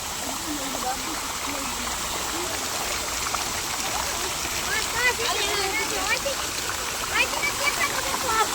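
Water rushes and splashes in a steady, continuous flow from an outlet pipe, fairly loud and close, while people talk over it.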